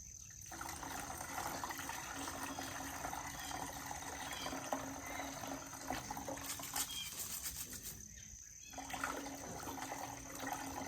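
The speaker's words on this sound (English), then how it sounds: "Because we'll have to rinse that out and clean it and stuff," Water gushing steadily while a Vevor rock tumbler barrel is rinsed out and cleaned, a continuous rushing flow at moderate distance with brief dips and shifts partway through.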